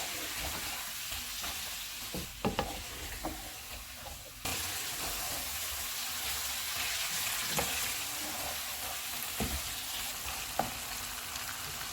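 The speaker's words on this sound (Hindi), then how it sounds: "इसमें टमाटर डालेंगे, सब्ज़ मिर्चें, सारे मसाले डालेंगे, इनको 7 से 8 मिनट तक भूनेंगे।" Mutton frying in a pan with tomatoes, green chillies and spices gives a steady, close sizzling hiss, broken by occasional sharp clicks and scrapes of stirring; no one speaks.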